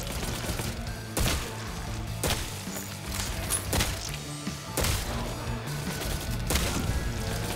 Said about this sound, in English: Love that shotgun.